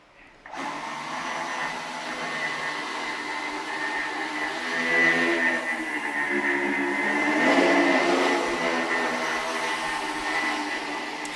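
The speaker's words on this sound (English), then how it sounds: "When you put them together, they behave like one high-performance quadricopter." A quadricopter built from two linked two-propeller flying machines hovers with a steady, dense whirring buzz of spinning rotors, close and loud, swelling slightly in intensity midway and holding throughout with no talking.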